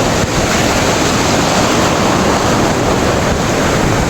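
Sea waves at Gopalpur beach, a loud, steady wash of surf filling the whole stretch, with wind buffeting the microphone and no voices.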